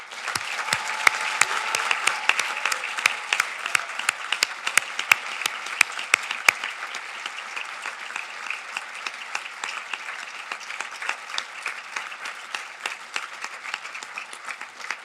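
Sustained audience applause for Naval War College graduates at a November 2019 graduation ceremony, many hands clapping steadily with a few louder individual claps up close, holding level and then thinning slightly toward the end.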